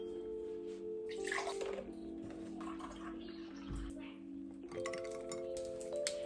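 Ice cubes drop and clink into a glass for iced coffee, a few sharp clinks over pouring and running water, with a low thump partway through and no clear speech.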